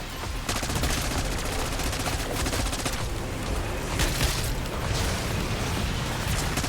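Dense, continuous gunfire from shooting at glowing monster parts in Black Ops 6 Zombies, rapid overlapping shots and booms sustained at steady loudness throughout, with no talk.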